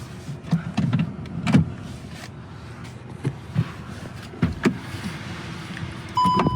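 The power seat in a 2025 Volkswagen Tiguan R-line is adjusted, with a near electric motor whirring in short bursts among clicks and soft thumps inside the cabin.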